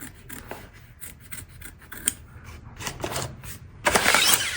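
Sharp scissors snip repeatedly through fabric close to the stitching of an in-the-hoop embroidered key fob, a run of crisp, close cuts ending in a louder rustling burst.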